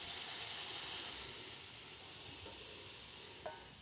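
Warm water poured into a hot frying pan, producing a loud steady sizzle and hiss that gradually eases, ending with a small clink near the end.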